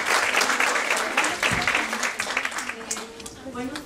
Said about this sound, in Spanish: ahora les pido un aplauso